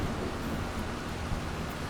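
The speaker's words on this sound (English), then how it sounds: "oh, it's raining, we've got to do our baling" Rain falls in the farming video game Farming Simulator 25 as a steady, faint hiss that lasts two seconds without any other sounds.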